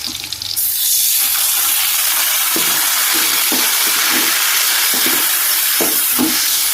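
Water poured into a pan of frying chili chicken with curry leaves and green chilies sets off a loud, sudden hiss that settles into a steady, close, vigorous sizzle with faint stirring knocks.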